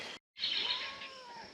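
A single short, high cat meow, rising then trailing off, close by and fairly quiet after a brief moment of silence.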